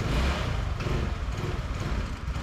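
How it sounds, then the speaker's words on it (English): Cheap Chinese scooter engine, a junky $40 machine, idling slightly low after an idle mixture adjustment: a steady, rough low putter, close and continuous with no voices. "It's idling better, but still just a little low."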